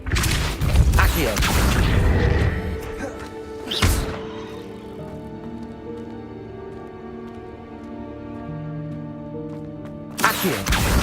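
Accio summoning spell cast in Hogwarts Legacy: a sharp whoosh bursts out mid-clip, then booming impacts and mechanical clatter follow over a sustained musical backdrop, with a voice heard at the start.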